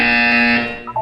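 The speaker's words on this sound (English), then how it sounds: "You will hear a buzzer. When you hear the buzzer, look down at the floor." A buzzer from the video game Portal 2 sounds as a single loud, steady electronic tone with bright harmonics, holding for just over half a second before fading, with a short blip at the end.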